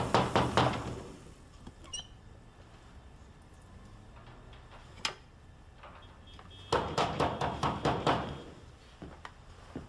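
Knocking on a door: a burst of rapid knocks, a few scattered single raps, then another quick series of firm knocks, close and fairly loud in an otherwise quiet room.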